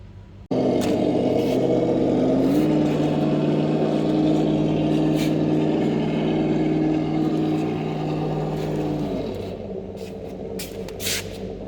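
A Traxxas TRX4 Bronco RC truck on stock tyres climbs a ramp, its electric motor giving a loud, continuous whine that steps up in pitch partway through and then eases off near the end, close by and without talk.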